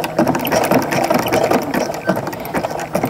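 A sewing machine stitches a jelly roll rug of coiled fabric strips, giving a steady, close mechanical whirr with rapid rhythmic clatter for the full stretch and no talking.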